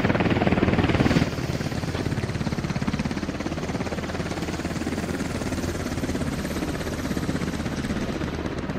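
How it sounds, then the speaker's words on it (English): A helicopter in the military video game SquadOps rolls overhead while taking fire, giving a steady, dense rotor and engine roar that stays loud throughout and swells briefly at the start. "Helicopter taking fire from the Dishka technical."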